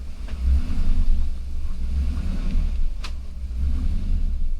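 A Chevy Silverado engine held in drive with the brake pressed, revving as the gas is applied: a steady, loud low rumble with rising surges, and a brief sharp click partway through, no voices.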